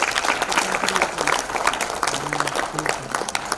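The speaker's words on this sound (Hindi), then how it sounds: "एक बहुत बढ़िया ताली।" An audience at an evening award ceremony in Delhi's Constitution Club breaks into sustained, dense clapping that fills the room steadily throughout.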